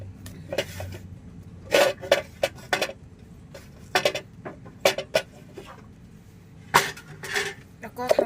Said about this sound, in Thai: การตำค่ะตำให้เครื่องเข้ากันนะคะ